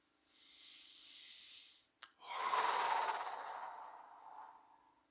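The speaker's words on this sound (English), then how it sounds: "Breathing in and breathing out." Slow, close breathing during a guided meditation: a soft, airy inhale, a brief pause, then a longer, fuller sighing exhale that fades away.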